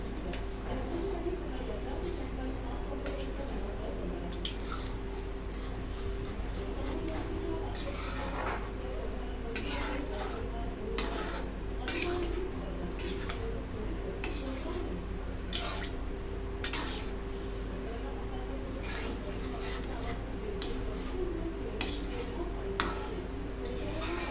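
Pav bhaji ingredients are stirred and mashed together in a pot, giving a steady run of clinks and scrapes from a spoon against the metal, with a few sharper knocks now and then, all over a constant low kitchen hum.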